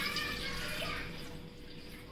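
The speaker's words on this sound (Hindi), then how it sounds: "जो पानी मैंने दिखाया था 1 कप, वो मैं धीरे धीरे डाल रही हूँ" About one cup of water being poured slowly into an empty cooking pot, a steady close splashing trickle that eases slightly toward the end, with no talking.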